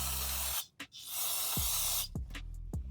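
Cleaner sprayed onto rear brake parts of a 2015 Volvo XC60, heard as close, loud aerosol hisses: one long burst, a short gap, then several quick repeated sprays.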